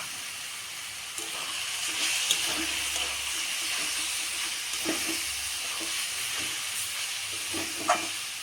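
Chicken pieces sizzle steadily in a hot pan with chili powder while being cooked down for a traditional chicken soup, a continuous moderate hiss with occasional stirring clinks.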